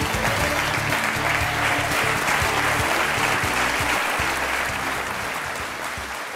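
Studio audience on a Tamil television courtroom-style talk show applauds a journalist invited as judge, a dense, steady wash of clapping filling the room for several seconds, loud and close, fading slightly toward the end.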